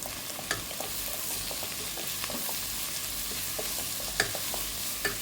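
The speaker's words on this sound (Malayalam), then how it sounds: "അതുപോലെ തന്നെ വെളുത്തുള്ളി ചതച്ചുകൂടെ അതിനകത്ത് ഇട്ട് കൊടുക്കുകയാണ്." Onion, crushed shallots and garlic sauté in a pan for a Kerala okra stir-fry, with a steady soft sizzle and scattered clicks of stirring at an even, moderate level.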